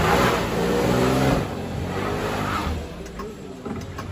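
Tank 300 SUV engine revving hard while climbing a steep off-road hill, a loud, steady roar close by that eases slightly partway through.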